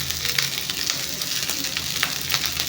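Chitrannam lemon rice being stirred in a pan over high flame gives a dense, steady sizzle with soft scraping and stirring strokes repeating throughout, close and fairly loud.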